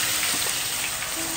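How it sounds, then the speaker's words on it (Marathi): Coconut frying in a pan makes a steady, close, dense sizzling hiss that holds without a break and has no voices over it. "कांदा झाला, आता इथं खोबरा फ्राय करणं चालू आहे."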